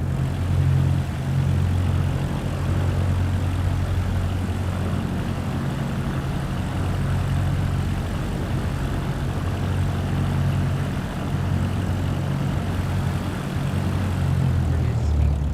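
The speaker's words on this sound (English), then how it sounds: "Taxiing to general aviation parking via taxiway Alpha Cessna 624." Cessna aircraft engine taxiing in Microsoft Flight Simulator 2024, a steady low propeller drone with a constant hum throughout, close and continuous, with no talking.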